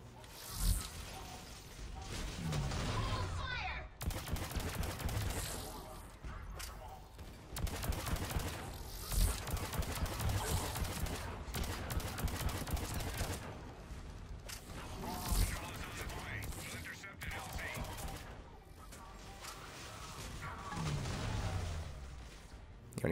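Repeated gunfire and missile launches in a video game, loud rattling bursts and whooshing blasts in long stretches separated by brief pauses, with a voice talking quietly underneath.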